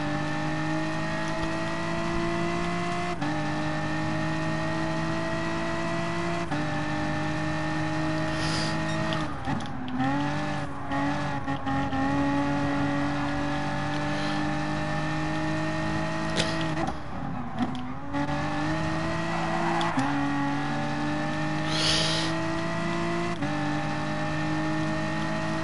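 Mitsubishi and Ferrari race cars in the Gran Turismo Sport video game, a steady high engine whine with sustained revving, shifting pitch as throttle changes and occasional brief tire scrubs, constant throughout.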